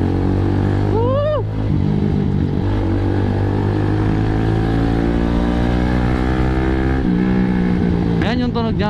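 Kawasaki Z200 motorcycle fitted with an Akrapovic slip-on muffler, idling loudly up close with sharp revs rising and falling near the start and again at the end, a steady throaty exhaust rumble between them.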